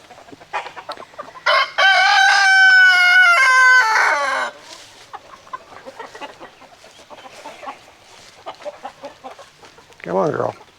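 A rooster crows loudly and close by in one long drawn-out call, while hens cluck intermittently around it and a person talks briefly near the end.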